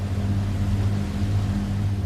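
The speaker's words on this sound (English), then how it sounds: "the only sound that reached the crew members was the reassuring drone of the Merlin engines" Steady, droning hum of a Lancaster bomber's Merlin engines, a low, even engine roar with a faint throb, continuous and loud throughout with no voices.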